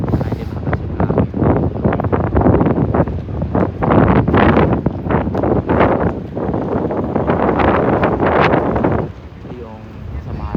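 Strong outdoor wind buffets the microphone in loud, continuous gusts with rumbling bursts, and voices talk faintly beneath it before the roar drops near the end.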